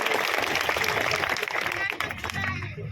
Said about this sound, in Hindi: जोरदार ताली बजाकर स्वागत करिए।